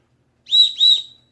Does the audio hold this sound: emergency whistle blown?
yes